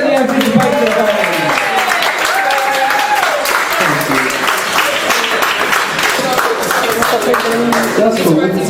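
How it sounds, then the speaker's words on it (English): A crowd applauds continuously at a poetry jam night, loud dense clapping mixed with cheers and excited voices calling out throughout. "Let's get some more applause."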